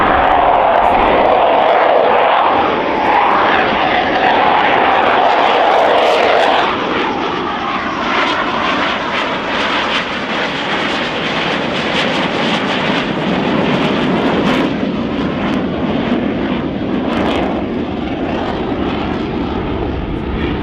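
Military jet with landing gear down passing at the RIAT 2018 airshow, a loud, continuous engine roar that sweeps and shifts in pitch over twenty seconds as it goes by, with faint crowd noise beneath.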